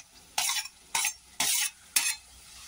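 Chopped onion and tomatoes sizzle in a pan as a spatula stirs them in four distinct bursts, each a loud hissing scrape separated by short quieter gaps.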